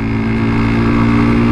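A 2018 delivery motorcycle engine with about 72,000 km on it runs steadily, a loud, continuous close-up drone with no pauses.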